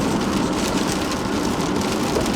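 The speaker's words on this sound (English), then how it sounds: "Yeah, it's raining here" Rain falls outdoors in a continuous, dense hiss with an even, steady level and no voices, close and enveloping for the whole short stretch.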